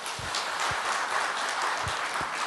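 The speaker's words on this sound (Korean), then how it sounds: "다시 한번 큰 박수 한번 부탁드리겠습니다." Audience clapping at a business CEO forum, a broad steady wash of applause from a seated crowd. It runs continuously without talk.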